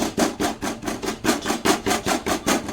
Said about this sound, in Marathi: ह्याच्यामध्ये शेंगदाणे टाकूया रुमालमध्ये आणि ह्याला असं कुटून घेऊया